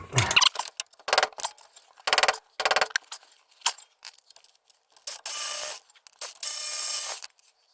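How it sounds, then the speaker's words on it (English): A ratchet loosens the E18 brake caliper mounting bolts on a Mercedes GLK X204 front suspension, with rapid clicking bursts in irregular spurts, then two longer steady ratcheting runs near the end, close and clear with no talking. "the next step is to remove the E18 brake caliper mounting bolts."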